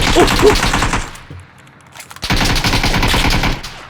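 Bursts of rapid VSS rifle fire in the PUBG battle royale game, two loud sustained volleys separated by a short quiet gap, close and dominant.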